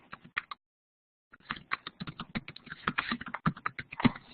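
Typing comments on a computer keyboard, a close, quick patter of key clicks that stops briefly and then comes back in a denser run.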